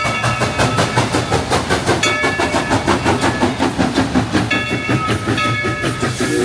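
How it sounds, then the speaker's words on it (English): An empty train rolls past close by at Dollywood, loud and steady, with rhythmic clickety-clack of wheels over rail joints and a brief higher squeal near the end. "That is an empty train."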